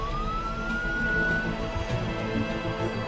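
Ambulance and police sirens wail, one tone sliding upward before holding a steady pitch while other siren tones sustain beneath it, a continuous mid-level emergency sound with no voices.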